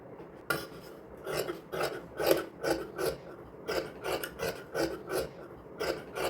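Scissors cut a 2-inch-wide fabric strip for a small girl's designer outfit, making a steady series of close, rasping snips that repeat in a quick, even rhythm with no talking.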